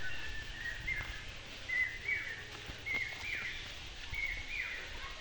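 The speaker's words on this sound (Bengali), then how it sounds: "পাখির যে কলকলালির মনোমুগ্ধকর একটা শব্দ, সেটা শুনতে কিন্তু খুবই ভালো লাগে।" Birds chirping in a rural village area, short bright calls repeating every second or so at moderate distance over a low steady background rumble.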